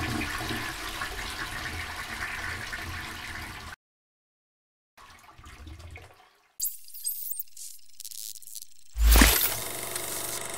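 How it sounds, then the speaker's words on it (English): A toilet flushes with a loud rushing surge of water near the end, after bursts of music and a brief silence. "Let toilet water flow,"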